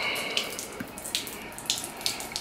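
Water sprays soapy water off a Mopar cold air intake filter as it is rinsed. Close splashing and hissing come in uneven bursts, with no one talking.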